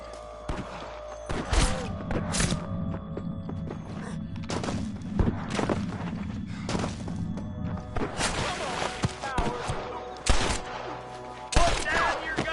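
Sniper and rifle gunfire in a Red Dead Redemption shootout: sharp, loud cracks repeat irregularly over a rumbling background of creaks and mechanisms, with shots clustering toward the end.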